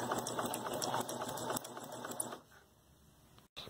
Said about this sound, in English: Don't fret if your sewing machine makes squeaky noises when it's sewing